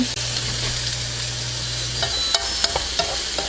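Soaked shiitake mushrooms stir-fried in a pan for japchae, a close, steady sizzle broken by several sharp clacks and scrapes of the spatula toward the end.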